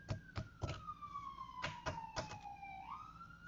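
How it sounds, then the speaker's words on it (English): An ambulance siren wails outside, a gliding tone that slowly falls and then rises again, heard at moderate distance with several sharp clunks and knocks punctuating it. "obligatory siren."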